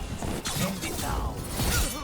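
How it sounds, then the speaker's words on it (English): Chains shattering in Dragon Age: The Veilguard, a short burst of breaking metal and crackling magical debris with scattered clinks, heard close and loud with other game effects around it. "Shattering those chains will free the bell."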